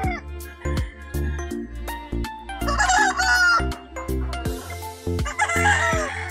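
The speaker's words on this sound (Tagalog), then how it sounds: "Kaya marami akong manok na puti dito" White chickens cluck in a steady rhythmic series of short calls close by, with a rooster crowing twice in the middle and again near the end, and some faint background voices.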